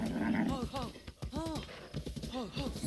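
A horse in the video game Breath of the Wild snorts and whinnies in short repeated calls, close and moderately loud, with hoof and ambient game sounds around them.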